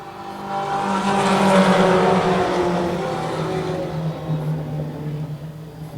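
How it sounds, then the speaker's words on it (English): Race cars in a weekly stock-style racing event roaring around a track, a loud, sustained engine drone that swells as the cars pass and then eases slightly, with no talking. "bumper to bumper as Chris Burgess catches up to your leader, and he's putting the pressure on."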